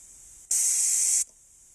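A sharp, steady hiss of compressed air escaping from a repaired air compressor lasts under a second, loud and close, between quieter background noise.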